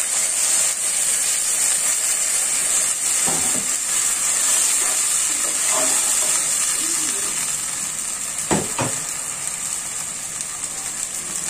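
Water poured into a pan of fried onions in hot oil, a broad steady hiss and sizzle with a few utensil knocks, easing slightly toward the end.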